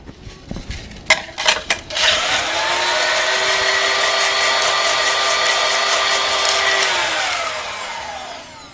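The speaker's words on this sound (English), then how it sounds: "And then flash blend." A tiki cocktail gets a quick flash blend: a few clinks and knocks of setup, then a loud, close blender motor whirs steadily for about five seconds before winding down.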